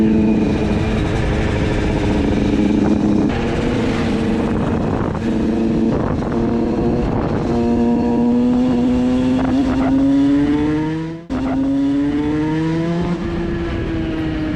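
A 50cc moped with an 86 Top Alu kit pulls away loudly and close by. The two-stroke engine revs climb steadily through the gears, with a brief drop at each shift.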